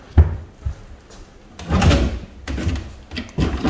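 A loose, dirty drawer in a newly rented bungalow is opened and shut a few times, giving close wooden knocks and sliding rumbles spread across a few seconds, with no talking.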